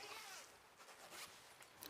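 Someone zips a lid onto a large fabric yarn storage bag, a soft, close zipper run drawn steadily for about two seconds, quiet with a faint rustle of fabric.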